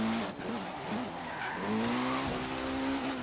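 Engine of a 1998 Mitsubishi Evo VI rallycross build in Forza Horizon 3 dropping in pitch as the car brakes hard for a corner, with tire squeal and skidding, then revving back up, loud and continuous.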